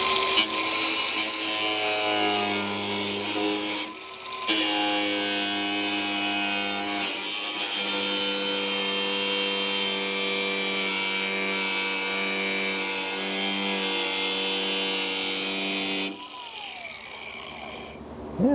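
A power tool grinds and cuts through rusted fender trim on an old truck, a loud, steady whining cut running for long stretches with short breaks near the start and end.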